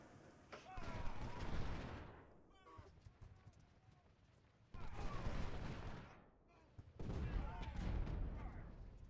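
Musket volleys fired into an enemy flank in the Civil War strategy game Ultimate General, three rolling crackling bursts of massed gunfire separated by quieter battlefield ambience.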